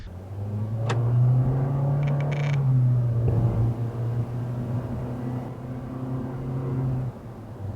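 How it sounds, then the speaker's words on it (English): Steady low engine rumble and tire-road noise from inside a car driving along a road, captured by a REDTIGER ViewClear 70 front and rear 4K dash cam, with a brief faint click early on and a constant drone throughout. "So I'm just driving down the road here."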